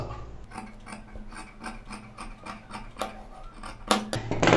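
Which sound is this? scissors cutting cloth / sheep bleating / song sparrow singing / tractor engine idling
scissors cutting cloth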